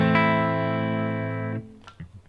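Fender Stratocaster neck pickup strummed clean, one full chord ringing warm and sustained for about a second and a half before being muted, followed by a couple of faint string noises.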